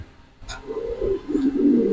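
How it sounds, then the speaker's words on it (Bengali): Boat-beaked pigeons at a pigeon farm in Mirpur coo in low, rounded phrases that swell from about the midpoint and keep going, close and fairly clear, after a short burst of higher sound near the start. "বোট ঠোঁটের কবুতর।"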